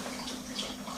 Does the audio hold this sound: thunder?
no